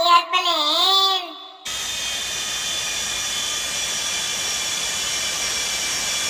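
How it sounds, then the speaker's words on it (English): Airplane jet engine roaring as a steady loud whine and hiss, held without change for several seconds after a short sung phrase. "A for airplane"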